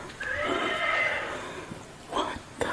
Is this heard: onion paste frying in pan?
no